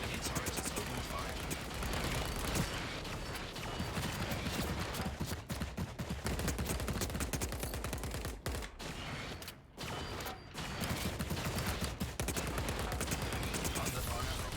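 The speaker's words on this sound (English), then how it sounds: "Enemy turret has opened fire." Continuous rapid gunfire from an enemy turret in a video game, dense and loud, rattling steadily across the whole stretch with only brief dips, while game voice lines sound over the shooting.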